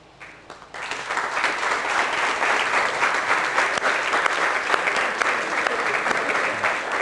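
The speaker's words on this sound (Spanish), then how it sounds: "Jorge se merece el aplauso." A classroom of students bursts into sustained applause for a classmate named Jorge at the end of a thermal-machines course, starting after a short quiet moment and continuing loud and even, with a few voices buried underneath.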